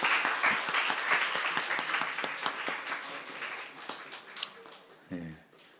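A church congregation in Gunsan claps in applause, a dense patter of many hands that gradually thins and fades, ending with a brief voice.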